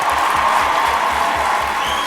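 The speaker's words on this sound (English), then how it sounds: "Let's give a big round of applause for Michelle Mannering." A conference audience at Programmable 2023 applauds a speaker with a dense, continuous clatter of clapping, fairly loud and steady, with a soft rhythmic low thumping underneath.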